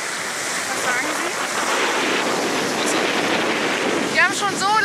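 Strong wind gusting by the sea in Adelaide, Australia, a constant loud roar of buffeting across the microphone with surf-like wash, and a few faint voices near the end.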